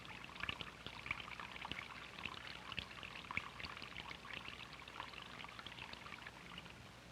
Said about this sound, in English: We can even attract a stream of water.